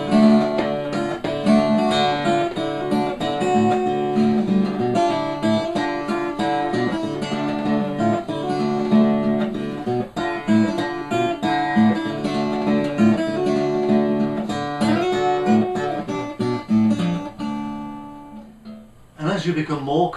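A blues guitar melody picked with a single finger on one string, plain notes without grace notes between them, played steadily for about twenty seconds before a few words are spoken at the end.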